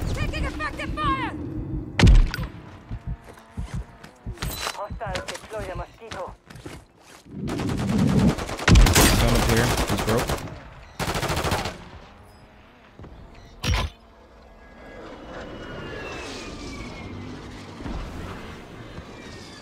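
Heavy gunfire in the Warzone 3.0 video game, with repeated loud shots and rapid automatic bursts crowding the middle of the stretch, mixed with game sounds and thuds under occasional talk.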